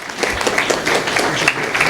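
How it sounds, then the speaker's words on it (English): A short burst of audience applause for two debaters at a summit debate, steady, close-sounding clapping with no talking. "let's give a round of applause to our two debaters here, Jeffrey Cobble and Mark Pulliam."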